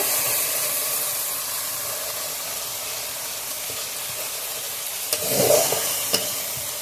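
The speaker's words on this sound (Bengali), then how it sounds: "সব কিছু ভালোভাবে কষিয়ে নেব।" Salt, turmeric and cumin powder sauté with potatoes and pointed gourd in a pan for Bengali egg korma, giving a steady close sizzle and hiss, with a sharper burst of spattering and stirring near the end.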